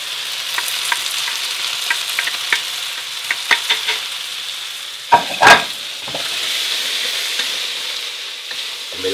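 Mushrooms and shallot cooking in a pan, a steady close sizzle with scattered stirring scrapes and a couple of sharper utensil knocks midway.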